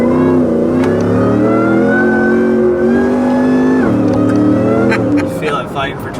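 A 5.0L V8 Ford F-150 pickup engine roars loudly at sustained high revs on a dyno, the pitch climbing, then dropping and sputtering near the end.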